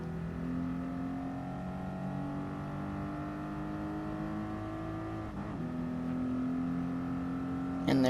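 A Toyota Supra 3.0 GT pulls hard from a standstill toward 60 mph, its engine note rising through the revs with a brief dip at a gear change before climbing again, steady and fairly loud from inside the car.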